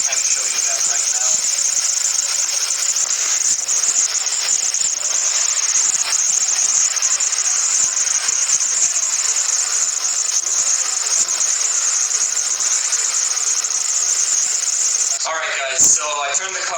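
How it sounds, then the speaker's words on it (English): A car's exhaust, with engine fault code 2188, passes unburnt fuel while idling. It gives a steady hissing, whining rush with a faint rattle, then cuts off abruptly with a brief clatter near the end. "so much unburnt fuel is going through the exhaust that it's making kind of a weird noise"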